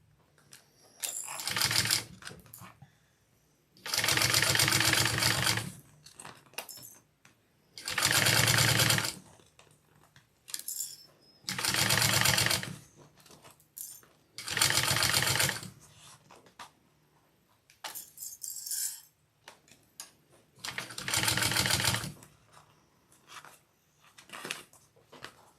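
A sewing machine stitches piping slowly around curved edges. Roughly seven short bursts of rapid, whirring stitching are separated by quiet pauses, and a few lighter taps fill the gaps.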